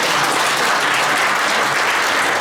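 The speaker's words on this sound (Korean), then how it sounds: "큰 박수 부탁드립니다." Dense, steady applause from an audience at a Buddhist forum held in a hall, loud and continuous for the whole moment with no pauses.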